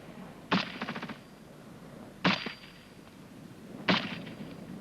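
Rifle gunfire during a military section fire and manoeuvre drill: three sharp cracks spaced about a second and a half apart, the first followed by a quick rattling burst, with faint outdoor ambience between.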